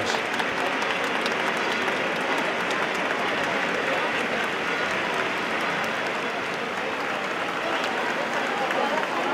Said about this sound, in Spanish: Aplausos con los que definitivamente dice hasta luego e introducen el trono en la Catedral de Murcia.